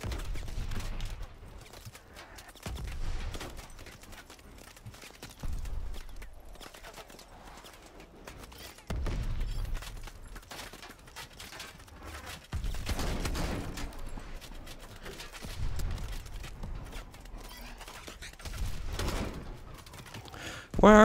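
Bursts of gunfire in Call of Duty Advanced Warfare, heavy low-frequency volleys arriving in spaced waves every few seconds, punchy and fairly close, with quieter stretches between.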